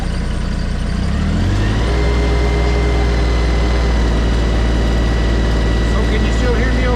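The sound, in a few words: engine revved up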